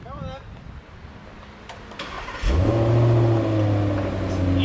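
A 2022 Range Rover engine catches and revs hard, settling into a loud, deep rumble through dual-tip exhaust after earlier background noise.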